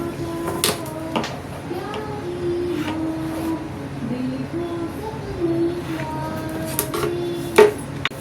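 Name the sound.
scissors cutting the back part of blouse fabric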